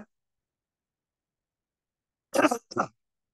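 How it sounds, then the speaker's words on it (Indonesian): A single throaty cough, two quick harsh bursts close to the mic, after a few seconds of silence. "Ya batuknya kerekam ya biarinlah"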